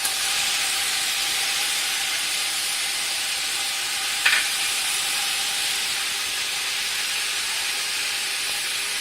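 Ginger-garlic paste hits a hot pan of oil after fried onions for chana pulao, giving a steady, loud broadband sizzle and hiss that holds evenly throughout, with one brief sharper crackle partway through.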